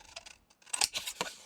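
Scissors snipping through paper or card for a scrapbooking box decoration, a quick series of close, faint crisp cuts over about a second and a half, with no voices.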